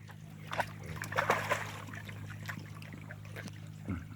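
Zeke the dog splashes and sloshes in water with a few irregular splashes at moderate distance over a low steady hum.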